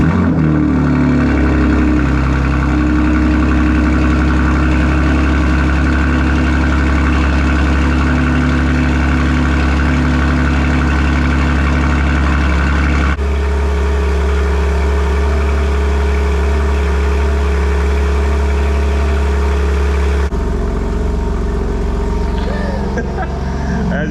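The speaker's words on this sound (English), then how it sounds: "let's go ahead and hop in the M2, start it up and see what it sounds like" A BMW G87 M2 fitted with a MAD single midpipe exhaust fires up and settles into a deep, loud, steady idle close by, its droning rumble continuing for a long stretch with only small shifts in tone.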